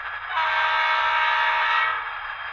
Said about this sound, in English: All right, here is the horn.